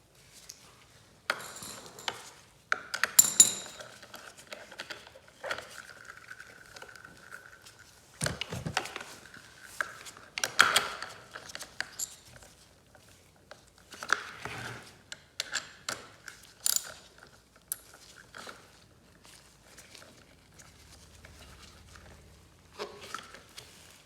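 A nut is tightened by hand on an EGO ST1510T 15-inch cordless string trimmer during an autowind repair, making quiet, scattered metallic clicks and ratcheting taps with pauses between them.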